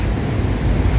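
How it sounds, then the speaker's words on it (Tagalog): Steady, dense rain hiss heard from inside Santa Clara church, with a low rumbling undertone, continuous and fairly loud throughout. "Umuulan eh."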